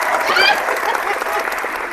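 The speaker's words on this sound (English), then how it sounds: "Round of applause and ready for Janaya." An audience breaks into steady applause, a dense wash of clapping lasting a couple of seconds at moderate loudness.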